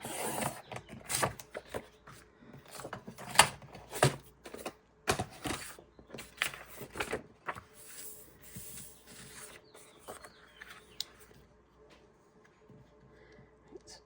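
Paper is cut down to height for a handmade folio, with a run of crisp, irregular cutting and rustling bursts close by that thin out into quieter handling.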